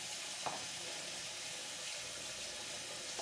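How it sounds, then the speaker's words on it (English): Tap water runs steadily into a kitchen sink during dishwashing, a continuous broadband rush with one brief clink near the start and no speech. "I'm pretty sure you can't hear me that well because of the water running."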